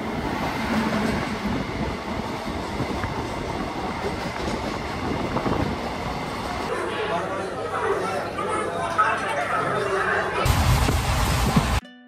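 Steady rumble and rattle of the Digha–Malda Town Express running at speed, heard from inside a sleeper-class coach, with a continuous rail roar throughout and a brief louder burst near the end.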